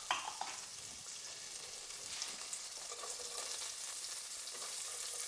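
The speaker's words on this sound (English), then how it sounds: "Just melting my butter in my frying pans." Butter sizzles and crackles steadily in a hot pan, a soft continuous frying hiss with small pops.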